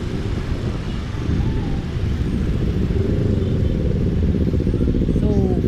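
A Honda Dio scooter engine runs steadily at night in Cebu City, a loud continuous low drone with some clatter and faint traffic around it, and no clear words spoken.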